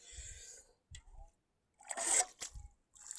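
Water is scooped and tipped out of a swamped boat on a pond in a few separate splashing pours, the biggest slosh near the middle, with brief voices between them.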